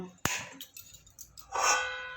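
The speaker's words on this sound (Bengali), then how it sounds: "কড়াই চাপিয়ে দিলাম" A metal wok is set down on a lit gas stove with a single sharp clank, followed by a soft rushing hiss from the burner while a voice speaks briefly.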